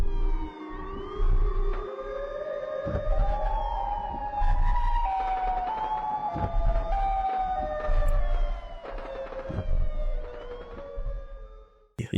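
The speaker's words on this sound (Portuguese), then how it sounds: "Mas o som mais comum que essas sirenes emitem é esse aqui." A loud siren wails continuously, its layered tones sliding up and down and wavering for several seconds before cutting off abruptly, with no talking over it.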